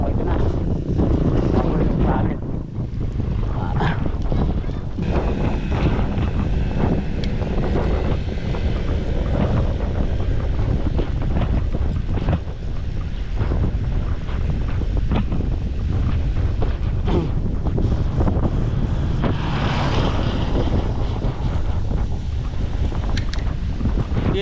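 Strong wind roars steadily across the microphone of a cyclist riding, a constant buffeting rush with no speech heard.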